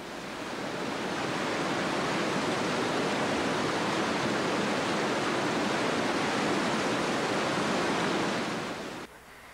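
The Rio Kumbasa flows in a loud, steady rush of river water, close and continuous, before cutting off abruptly at the end.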